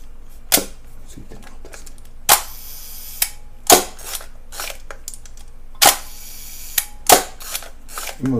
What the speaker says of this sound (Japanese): 今みたいにカチッとしっかり入ってないとシャッターが切れません。